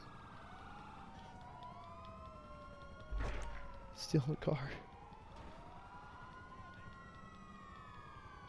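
Broken police car siren in GTA 5, a wavering wail sweeping up and down steadily through the whole stretch, with game sounds and a short burst of voices and thumps in the middle.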